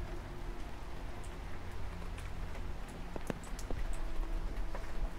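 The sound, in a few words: rain pattering against window in survival horror video game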